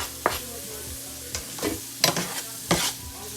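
Chopped garlic stirred through a sausage, green bean and potato casserole in a hot skillet, sizzling under sharp scraping strokes of a utensil that come in several distinct bursts close up, with no talk.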